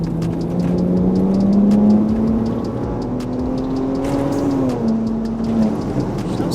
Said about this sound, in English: I don't remember the exhaust being that loud.